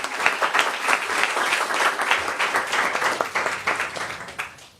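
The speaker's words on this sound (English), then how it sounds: "Let's have a round of applause for those who've been on the front lines." An audience at a New York City gathering of tenant organizations bursts into dense, sustained applause, a thick wash of many clapping hands that holds steady for several seconds before tapering off.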